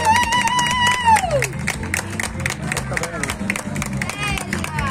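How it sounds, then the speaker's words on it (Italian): Audience applauding a costumed performer portraying Mystique from X-Men at an outdoor event in Orbassano, steady clapping with crowd murmur and a rising whistle-like tone near the start. "Applauso!"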